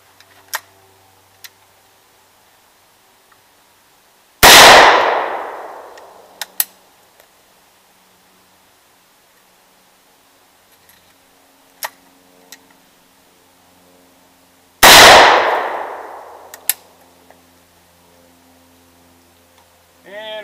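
Two loud, sharp gunshots from a .223 Handi-Rifle fired outdoors at outdated food cans, spaced about ten seconds apart, each with a decaying echo, between faint ticks and small knocks.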